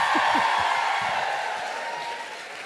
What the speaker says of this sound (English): Round of applause for Hannah, please.